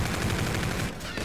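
Rapid automatic gunfire from the video game Call of Duty: Infinite Warfare during a team deathmatch, a dense, loud stream of shots that thins briefly near the end.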